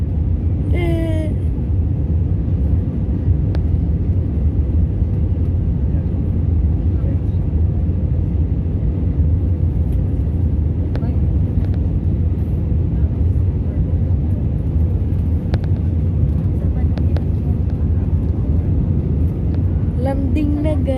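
A steady, loud rumble of an airliner landing at Manila fills the cabin throughout, with faint voices underneath.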